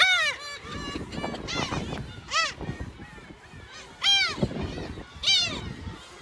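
Loud honking seabird calls burst out repeatedly in irregular clusters at a nesting colony on Kabushima island, Hachinohe, Japan, several birds calling close by over a restless background of squawks.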